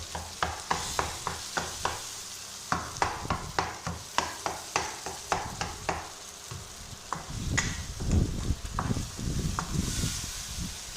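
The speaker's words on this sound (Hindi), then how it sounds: "इसको हम चम्मच की मदद से अच्छी तरह हम मिक्स कर लेंगे" A spoon stirs mashed eggplant bharta in a pan, giving rapid rhythmic scraping strokes up close, then softer mixing over a gentle sizzle.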